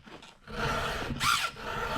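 A round file rasps across a chainsaw chain's cutting teeth to sharpen them, close scraping strokes in two or three short rhythmic passes.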